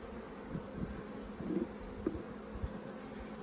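Faint, continuous buzzing of honey bees at a hive, a low hum with occasional louder passes, quiet and steady over a few seconds.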